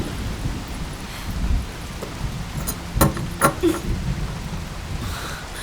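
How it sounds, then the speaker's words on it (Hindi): Heavy rain pours in a steady, dense hiss with a few sharper cracks around the middle, and no voices over it. "शैलू, ये क्या इतनी बारिश में?"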